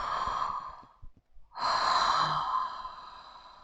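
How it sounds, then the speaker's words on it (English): Ujjayi pranayama breathing through the nose with the mouth closed: a close, hushed breath sound, one long exhale, a short pause, then a long inhale, alone and fairly quiet. "It will sound a little bit like the breath of Darth Vader"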